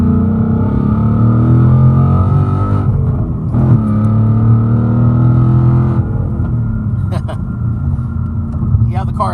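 A 2019 Ford Mustang Bullitt accelerates up a highway on-ramp, its V8 engine roaring loud and close with rising, layered rumble, then easing off into a steadier cruising drone with faint clicks near the end.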